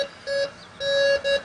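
A metal detector sweeping over the cornerstone of a former Methodist Episcopal church gives three steady electronic tones, each lasting a fraction of a second, the middle one longest, close and fairly quiet.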